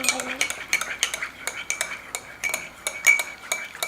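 A spoon stirs coffee with sugar and creamer in a cup, making quick, steady, rhythmic clinks against the sides. The sound is close and moderately loud, with no talking.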